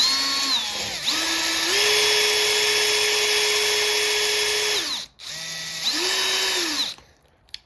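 A power drill grinds against a shredded screw head in long, loud, close, sustained runs, its pitch rising and settling, with a brief stop near the middle before it spins up again and then cuts off.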